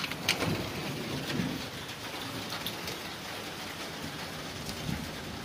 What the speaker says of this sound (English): We can see that it started to rain.